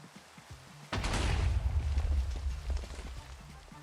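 A sudden loud rush of rain starts in a Minecraft game and keeps pouring as a dense, steady wash, after a quiet start with faint clicks.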